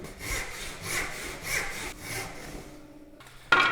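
A hand saw cuts wood for a bridle joint in a steady back-and-forth rhythm of about five rasping strokes at close range. The sawing then pauses, and a sharp knock follows near the end.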